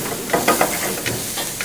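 Fennel seeds, ginger, garlic and onion fry in hot oil for a Kerala meat puttu masala, a close sizzle with a few bursts of stirring and crackle over a steady hiss.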